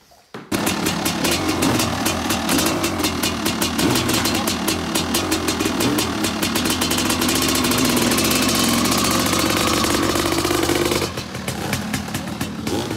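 A loud engine runs steadily close by for most of the stretch, a continuous rumbling drone with rapid ticking, then drops off near the end.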